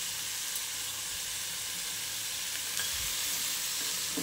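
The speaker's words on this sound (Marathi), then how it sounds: "हेही आपल्याला हलकेसे भाजून घ्यायचे आहे।" Whole spices (a small cinnamon piece, cardamom, black pepper, cloves and dried chillies) dry roasting in a pan for paneer masala, giving a steady soft sizzle and hiss throughout with faint stirring scrapes, close and alone.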